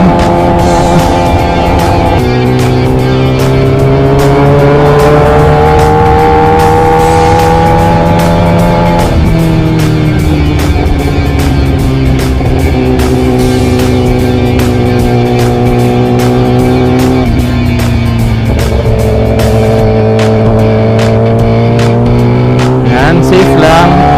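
Big-bike motorcycle engine under load while riding, loud and close, its pitch climbing through gears with drops at each shift, a continuous harmonic drone with wind noise throughout.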